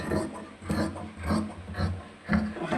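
Scissors cut through nighty fabric in a steady series of crisp snipping and rasping strokes, about five cuts in under three seconds, close and fairly quiet with no talking.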